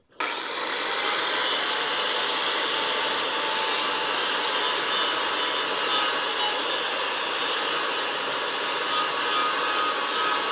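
Abrasive scraping of black electro-coated primer down to bare steel on a Charger crew cab body panel, a loud, steady, continuous grinding rasp lasting the whole stretch without pauses.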